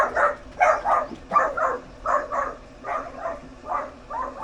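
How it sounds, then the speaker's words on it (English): A neighbor's dog barks excitedly in a yard, a rapid, regular string of about a dozen sharp barks at a steady, moderate distance, with no speech over it. "Neighbor's dog came in the yard. He got overly excited about it."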